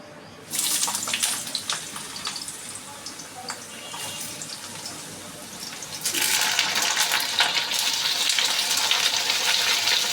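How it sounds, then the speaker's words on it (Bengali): Cut potato and ridge gourd hit hot oil in a pan with a loud, hissing sizzle that stays steady, then surges stronger partway through, with no talking over it. "এবার আমি আলু আর ঝিঙে যেটা কেটে রেখেছিলাম সেটা আমি ছেড়ে দিচ্ছি"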